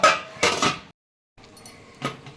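Metal pan lid clattering onto a pan of chicken curry, two quick clanks and scrapes, then a pause and a lighter knock, close and alone.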